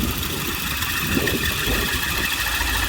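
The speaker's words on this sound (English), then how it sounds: "all three belts making a squeal, so we need to do adjustment on all three belts" A Volvo 940 engine runs steadily with its three drive belts, including the alternator belt, squealing in a continuous high whine over the idle rumble. No one speaks.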